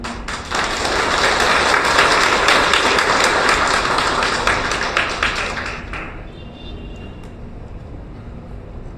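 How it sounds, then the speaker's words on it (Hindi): A large audience applauds at a public speech honouring great men, a dense, loud wash of many hands that holds steady for about six seconds, then fades to scattered claps and room noise. "उन महापुरुषों के लिए तालियां"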